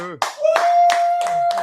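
A few sharp, separate hand claps from a combat-sports show audience, spaced roughly every third of a second, close and crisp over a steady hum.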